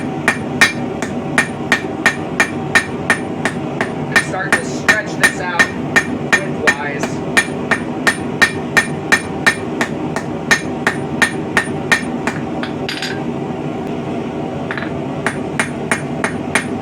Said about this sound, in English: use our crossbeam side of our hammer here